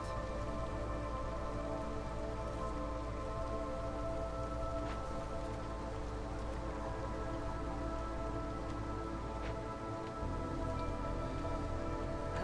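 Storm rain in the video game Against the Storm, a steady, dense hiss of downpour that holds at an even level throughout, with game music tones layered underneath.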